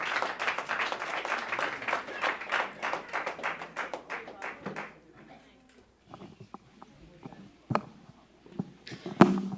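Lively clapping from a church audience at a praise and testimony night, brisk and close for about five seconds, then thinning to scattered claps and stray noises.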